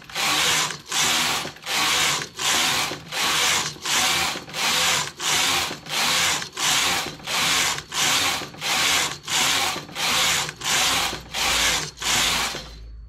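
A hand-operated knitting machine knitting rows of a knitted cap, the carriage swept back and forth in about fourteen even, rasping mechanical passes, each a second-long whirring clatter separated by short pauses, close and steady, without speech.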